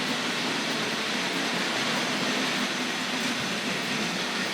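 A steady rolling rumble of a Tri-ang Hornby model train running along its track at a model railway exhibition, continuous and even, with no voices.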